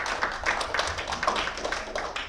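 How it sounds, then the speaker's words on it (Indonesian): A small audience at a micro teaching session claps briefly for a participant's answer. The claps are close and distinct, forming a quick uneven patter that lasts a couple of seconds. "Kita tepuk tangan untuk Pak Al."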